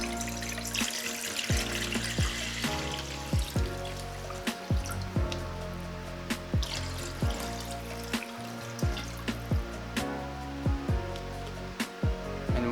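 Water runs into a pot in a kitchen while Korean hand-torn noodle soup is being made, a steady trickle broken by repeated sharp clinks and taps, close and fairly quiet, with no voices.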